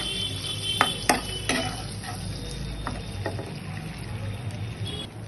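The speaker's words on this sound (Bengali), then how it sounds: "আর কালারের জন্য একটু কাশ্মীরি লঙ্কা গুঁড়ো দিয়ে দেবো অল্প এটা একটু নেড়ে নিয়ে" Chicken with Kashmiri chilli powder is stirred in a pan, a few quick scraping clinks of the utensil over a low, even sizzle that continues quietly afterward, with no one speaking.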